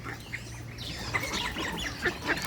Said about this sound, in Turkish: dünyanın hemen hemen her ülkesinden ördek türleri mevcut